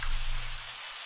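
Steady rain hiss in the Undertale video game, a soft continuous wash of falling drops with a low hum beneath, short and unbroken with no voices.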